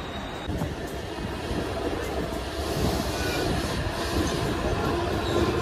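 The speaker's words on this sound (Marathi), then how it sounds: "चला फायनली ठाणा ट्रेन लागले" A Thane local train pulls into a station platform with a loud, steady roar of rolling wagons and rumbling wheels, continuous throughout with a faint high squeal, and no talk.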